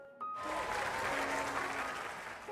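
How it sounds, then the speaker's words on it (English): Comedy club audience in a video game erupting into applause after the comedian's bow, a dense, steady wash of clapping that starts abruptly and holds loud throughout. "the comedian bows and everyone erupts into applause"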